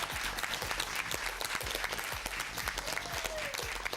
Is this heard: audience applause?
yes